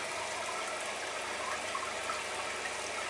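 Steady rushing water from a hose or tap, flushing leftover sand off a surface, a continuous broadband gush that stays even and close with no talk over it.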